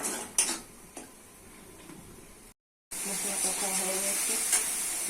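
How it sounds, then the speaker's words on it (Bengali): Ground turmeric, chilli, cumin and coriander sautéed in a pan give a low sizzle with scraping and clinks of a spoon, then a brief silence before a louder, steady sizzle resumes. "মশলা ভালো করে কষে নিতে হবে"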